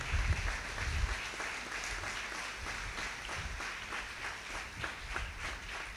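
A congregation claps together loudly, a steady patter of many hands close by that carries on for several seconds, with a brief low thump near the start.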